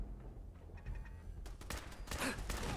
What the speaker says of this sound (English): why are these shooting at me and nothing else?